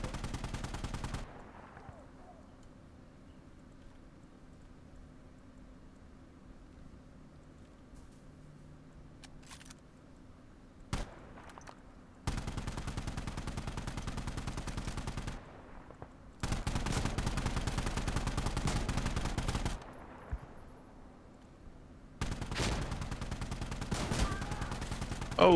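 Automatic and single gunfire in the Insurgency multiplayer shooter, coming in loud dense bursts between quieter stretches of game ambience, with a few isolated sharp shots; a player talks over parts of it.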